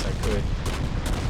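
Naval guns on the destroyer Mahan fire in World of Warships, a steady rumbling barrage of booming shots with a few brighter blasts, close and loud throughout.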